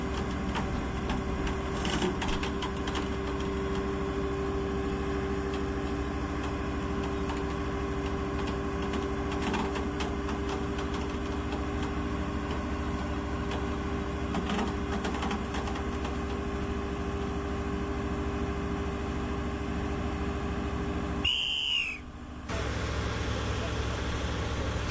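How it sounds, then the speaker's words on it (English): A steady mechanical drone with a constant low hum as a winch hauls an RNLI lifeboat onto its launch carriage, running continuously, broken briefly by a short pause near the end. "The lifeboat is then gently winched onto the carriage."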